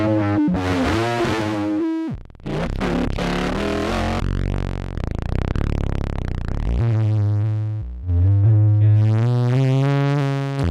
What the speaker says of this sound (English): it's my voice affecting the internal phase mutant